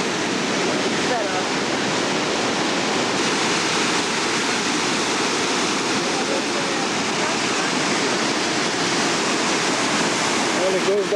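Water rushing down through a hole in rock, a continuous loud roaring hiss like a small waterfall, steady and close throughout.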